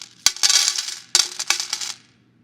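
Two small coins dropped as a temple offering, each landing with a sharp metallic clink followed by bright ringing and rattling as they settle, the second drop about a second after the first, close and clear with no voices.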